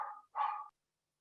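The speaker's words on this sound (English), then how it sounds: "excuse my dog" A dog barks twice in quick succession, close and moderately loud, the second bark longer than the first, then silence.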